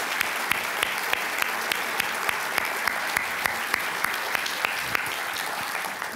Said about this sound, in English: So let's hear applause would be great.